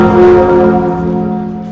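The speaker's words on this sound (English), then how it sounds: "The bells of Notre-Dame rang again" Notre-Dame cathedral bells in Paris ringing, a loud sustained tolling tone with rich overlapping overtones that slowly decays, heard alone.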